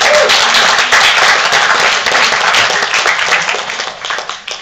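Audience applause for guests of honor at an animation convention's opening ceremony, a dense, loud wash of clapping that runs steadily throughout and thins slightly toward the end.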